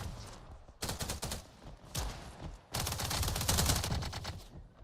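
Rapid gunfire in a VR video game comes in fast automatic bursts with short pauses between them, loud and close, with no speech over the shots.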